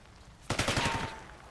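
A rapid burst of automatic gunfire rattles out in the Black Ops 6 shooter video game, lasting about a second of quick repeated shots after near silence, then cut off abruptly.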